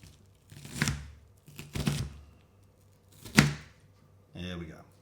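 A knife dicing onions finely on a board gives a few separate bursts of chopping, loud and close, with gaps between them and low talk running underneath.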